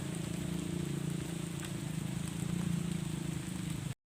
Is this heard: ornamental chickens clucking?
no